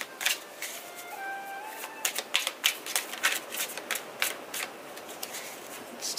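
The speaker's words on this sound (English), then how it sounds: "Let's do 3 shuffles." Tarot cards shuffled by hand, a run of quick crisp riffling snaps and flutters close by with uneven rhythm, rising to a dense burst of shuffling, with no speech.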